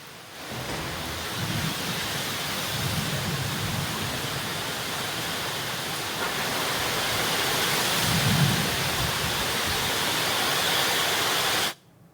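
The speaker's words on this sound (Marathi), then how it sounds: "रत्नागिरीत जोरदार अवकाळी पाऊस सुरू आहे" Heavy unseasonal rain pours in Ratnagiri, a loud, dense and continuous hiss, with low rumbles of thunder swelling underneath at intervals before the sound cuts off abruptly.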